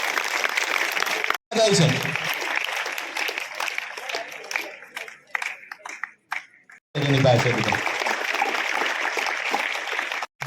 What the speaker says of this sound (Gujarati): આપણે તાળીઓથી વધાવી લઈએ